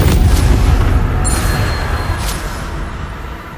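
An Incendio fire spell cast in Hogwarts Legacy: a loud, broadband fiery burst with a boom at the start, a second flare midway, then a roaring whoosh that slowly fades over a few seconds.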